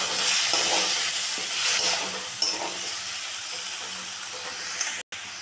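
Potatoes frying in a pan with a slit green chilli and a splash of water, giving a loud, steady sizzle and hiss up close with faint stirring knocks and no talking.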